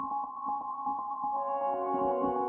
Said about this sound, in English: We got a little reverb from the multigrain.